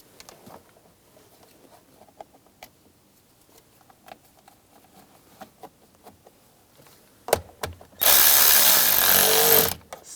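Power tool driving screws into a combination switch on a 2008–2017 Buick Enclave, heard first as scattered small clicks and taps of parts being fitted, then a loud, steady whir of the driver for about two seconds, close.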